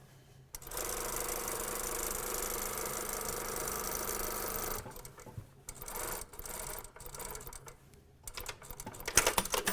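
A sewing machine runs steadily for about four seconds, stitching an elastic hem on a vest, then stops and gives way to short bursts of stitching and fabric handling.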